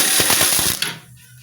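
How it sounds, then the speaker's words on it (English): A power drill whirs in short pulsing bursts for under a second while enlarging a hole during an Avro Speedster transmission cooler and belly pan install, then stops abruptly, leaving near silence. "So I'll drill a bigger hole here."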